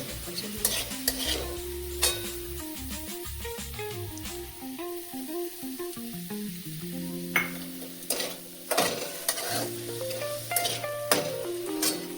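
Finely chopped green chillies fry in a pan for sabudana khichdi, a sizzle with clattering stirring scrapes over steady tonal background music.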